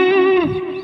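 Electric guitar lick, heavily processed with effects, played alone: a single sustained note bends and slides with a rich upper harmonic stack, then decays slightly quieter.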